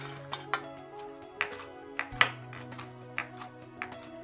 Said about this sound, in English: and then we're going to chop them coarsely.